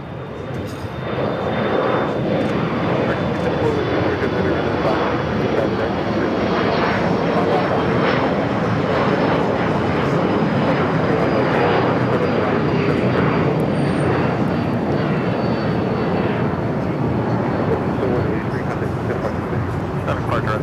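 Boeing 777 freighter jet engines spooling up and roaring steadily at LAX, a loud, continuous broadband rumble that persists throughout, with outdoor ambience around it.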